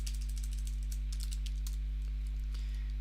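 Typing on a computer keyboard, a steady run of light, quick key clicks close by over a constant low electrical hum.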